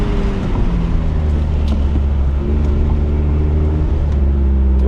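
Mazda ND Miata, a street and track car fitted with sway bars, driving through a U-turn, its engine a steady loud low drone with even pitch and road rumble from inside the cabin.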